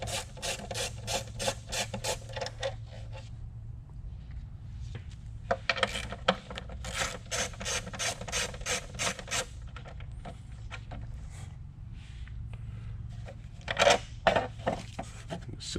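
A socket wrench works off two 10mm nuts holding the engine cover on a 2005-2009 Toyota 4Runner 4.7L V8, with close rapid ratcheting clicks in bursts, a pause, then more ratcheting and a brief metallic clink.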